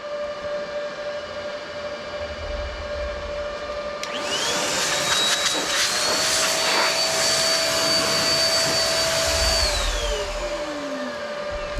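A powered air blower whines up sharply and runs for several seconds, blowing dust off the screen of a 2013 iMac, then spins down in a falling tone over a steady background hum, close and loud.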